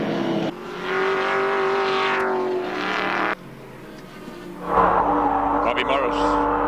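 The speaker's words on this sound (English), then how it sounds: "here's a driver at work going up the mountain, changing gear" A 1980 touring race car climbs the mountain at Bathurst during the Hardie-Ferodo 1000, its engine revving high and dropping sharply through gear changes before picking up again, loud and close.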